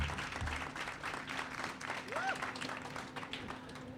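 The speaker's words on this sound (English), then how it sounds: "let's give another round of applause, if we can, to Tyrone Roderick Williams and" Audience at a building grand opening in Chinatown giving a round of applause, moderately distant, steady clapping under light background noise with a brief faint whistle-like tone.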